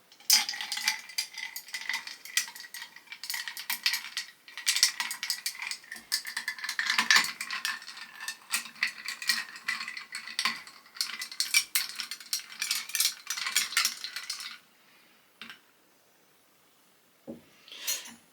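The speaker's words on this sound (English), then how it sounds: "We're just going to give it a stir." Ice cubes rattle and clink rapidly against a glass as a Midori Sour cocktail is stirred, a close, busy clatter lasting about fourteen seconds before stopping, followed by a few stray taps.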